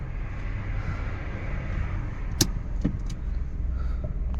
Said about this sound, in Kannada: ಗಾಡಿ ಆನ್ ಆಯಿತು. 1 ಪಾಯಿಂಟ್ AC ಇಟ್ಟು ಚೆಕ್ ಮಾಡ್ತೀನಿ